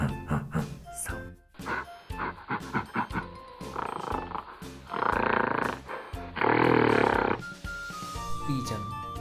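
Gorilla vocalizing with a run of rough grunts and huffs building into loud, harsh roaring bursts, close and forceful, alone without talk.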